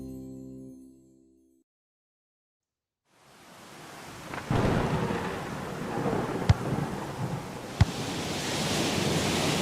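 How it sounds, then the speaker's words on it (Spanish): Heavy rain and strong wind roar in a storm, rising from silence into a loud, steady wash of noise with a couple of sharp cracks near the end. "Está lloviendo muy fuerte y hay mucho viento."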